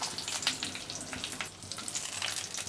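Bay leaves, whole spices and green chillies fry in hot oil with a close, crackling sizzle and bursts of spitting pops, steady and without voices.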